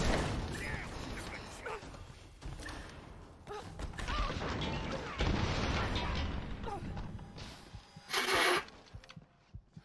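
A rifle fires during a Tomb Raider (2013) speedrun, with a few sharp booms and mechanical clatter amid game noise while someone talks over it.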